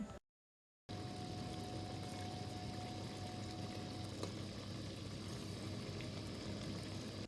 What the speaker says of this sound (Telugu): ఇప్పుడు ఉడికిన చికెన్లో 2 గ్లాసుల వాటర్ని వేసుకోవాలి